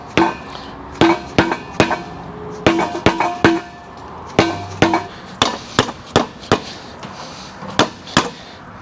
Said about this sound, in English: you're just going to gently tap around to get it to come loose